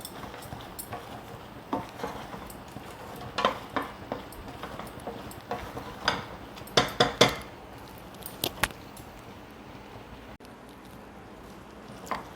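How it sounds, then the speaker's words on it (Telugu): A spoon scrapes and taps against a pan while peanut chikki mixture is stirred, faint irregular clinks and knocks over a quiet background, with no talk. "ఇలా కలుపుతూ ఉండాలండి దగ్గరుండి"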